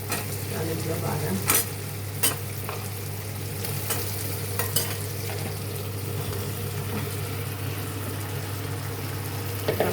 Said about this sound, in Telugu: టమాటా ఇలా మగ్గించుకోవాలండి